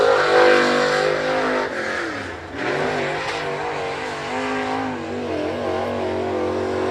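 Race cars roar around a dirt speedway during a regular race program at Big O Speedway, engines loud and continuous with rising and falling revs as cars pass close by.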